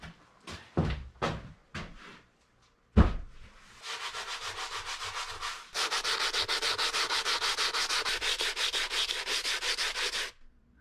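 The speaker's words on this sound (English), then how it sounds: "Shouldn't be doing too much damage to the sanding discs here anyway." Sanding discs grind against bricks for a rocket stove, a few scraping knocks first, then a sustained rhythmic abrasive rasp that grows louder and harsher before stopping abruptly, close and alone.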